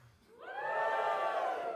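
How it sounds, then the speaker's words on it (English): A comedy club crowd at The Stand in Newcastle breaks into a short, swelling burst of cheering and whooping, rising quickly and holding loud for about a second. "Give us a cheer if you're below the age of 35."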